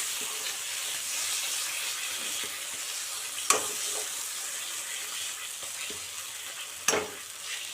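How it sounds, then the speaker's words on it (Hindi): Chicken masala frying in a pan gives a continuous hiss and sizzle, broken by two sharp scraping stirs, with no one speaking over it. "आमे एबे सेथिरे किछि चिकेन मसला पकेइबा।"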